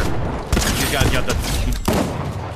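Rapid automatic rifle fire in Fortnite ranked play, loud and close, with dense overlapping bursts running through the whole clip and a short break just before the last volley.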